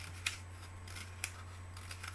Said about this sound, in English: Let's take some little scissors and just go all the way along, all the way around it and cut it.